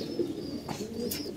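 A domestic pigeon coos in a low, steady rolling murmur, fairly close and moderately quiet, continuing through the moment with no one speaking.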